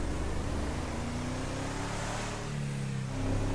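A sports car engine from GTA roleplay drones with a steady, throaty hum, its pitch rising and shifting slightly as it revs, loud and continuous with no talking.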